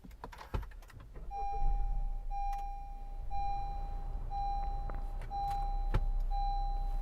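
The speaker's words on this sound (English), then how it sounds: "Start her up." A Honda CR-V Black Edition engine starts on a snowy winter day, its low rumble settling into a steady idle inside the cabin while a dashboard chime beeps at regular intervals, with a few clicks and taps. No one speaks.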